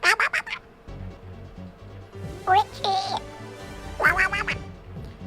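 A man imitates duck quacks with his voice, a few short nasal quacking bursts spaced across the stretch, over faint background game music.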